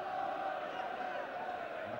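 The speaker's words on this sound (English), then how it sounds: "the crowd at the moment enjoying every moment of it" Football stadium crowd at an FA Cup fourth-round match between Brighton and Liverpool, a faint, steady roar of massed voices and cheering heard from a distance, with no commentary over it.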